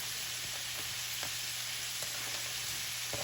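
About four large, very thinly sliced mushrooms sizzle in a hot pan for a vegetable quesadilla. A steady, fairly quiet hiss carries faint clicks and pops throughout.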